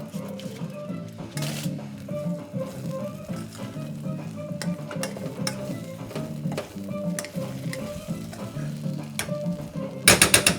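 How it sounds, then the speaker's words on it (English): A spoon scraping and stirring rice in a pot while jollof rice cooks, with soft repeated scrapes and light sizzling heard close and fairly quiet, plus a short louder clatter at the end. "I'm gonna stir the rice again."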